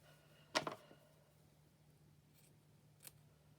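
Scissors snip through paper for a craft tag project, one crisp close double cut followed by a faint later snip in a quiet room.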